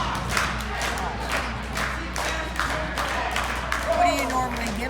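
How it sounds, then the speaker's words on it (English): A wrestling crowd at a live show cheers and shouts in bursts, with scattered claps and yells, while voices talk nearby over the noise. "Bouncer keeping his crowd rallied up."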